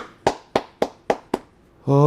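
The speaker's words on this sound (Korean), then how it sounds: "박수." Five sharp hand claps spaced about a quarter second apart, loud and close, with silence between them; a voice begins right after the last one.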